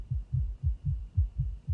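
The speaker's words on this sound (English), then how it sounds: "Why's your heart beating so fast?" A fast heartbeat sound effect from the TV series Interview with the Vampire thuds in quick, low, rhythmic double pulses, alone and steady.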